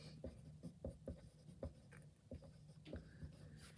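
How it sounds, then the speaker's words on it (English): Pen or pencil writing on a paper page, heard as quiet, close scratchy strokes in an irregular rhythm with small taps between them. "I'm just going to write it outside"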